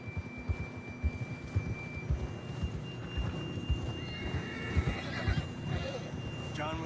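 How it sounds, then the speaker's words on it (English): A horse in the Red Dead Redemption 2 video game whinnies and snorts over the rhythmic clip-clop of hooves on a trail, with faint game ambience and voices in the background. "John was riding that horse when we left Blackwater."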